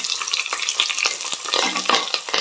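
Curry leaves and green chilies sizzle and crackle in hot oil, a dense close-up frying hiss with quick popping bursts and stirring, no voices heard.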